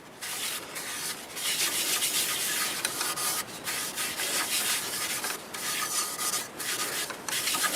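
Howard Feed-N-Wax is rubbed onto the inside of a turned wooden bowl, a rough, steady rubbing scrape in repeated strokes broken by short pauses, close and fairly loud with no talking.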